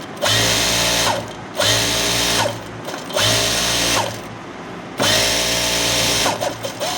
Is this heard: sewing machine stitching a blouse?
yes